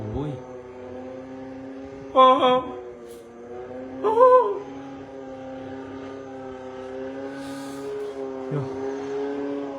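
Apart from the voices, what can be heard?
boat engine on canal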